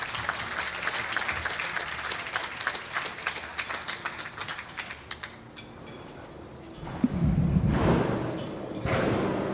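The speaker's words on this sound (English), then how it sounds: "Please give her a round of applause." Audience applause at an awards event for Joanne Serpico, executive director of the Joint Civic Committee of Italian Americans. Dense clapping for about five seconds fades, then a few louder bursts and some voices follow.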